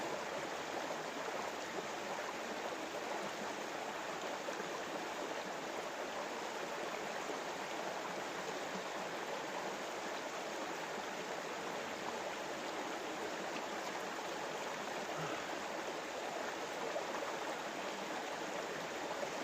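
Constant flowing water of Rockbottom Creek, an even, unbroken rush that holds steady throughout, nearby and moderately loud.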